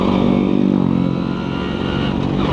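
A Suzuki Crystal motorcycle being ridden on the road, its engine droning steadily and loudly throughout with a rough, slightly clattering tone and no talk over it.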